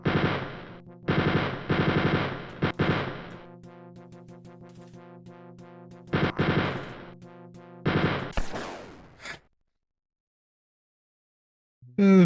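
Rapid machine gun fire in the 1992 DOS shooter Spear of Destiny comes in several loud, close bursts of chattering shots, with short pauses between them, before the fire cuts off into a long silence.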